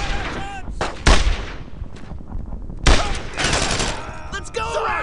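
Gunfire in the World War II shooter Brothers in Arms: Road to Hill 30, with two heavy booming bursts and rattling shots amid battle noise, while game voices shout over the fighting.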